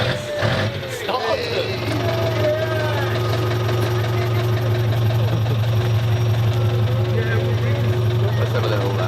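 Small rear-engined car fitted with a new exhaust, running with a steady low drone and a brief rev early on, with people talking over it throughout.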